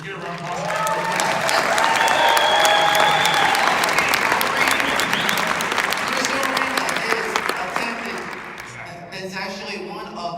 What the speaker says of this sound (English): Get a round of applause.